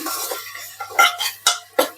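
A spoon scrapes and clinks against a pan of masala khichdi in a few quick strokes, with sharp metallic taps near the end.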